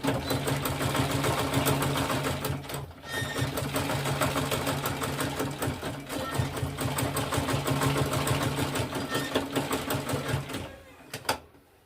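Sewing machine top stitching a tote bag of Ankara fabric and leather, a rapid continuous mechanical chatter running nearly the whole time with brief pauses, close and clear.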